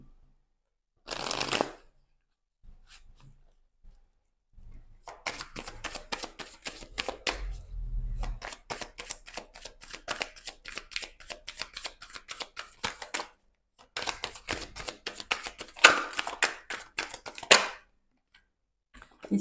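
Oracle cards are shuffled by hand close up in several crisp, rapid bursts of riffling and flicking, with short quiet pauses between them.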